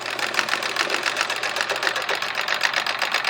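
A sewing machine runs steadily with a Westalee decorative thread ruler foot, stitching a decorative chevron pattern forward, a continuous fast mechanical whir with rapid needle pulses throughout, close and alone.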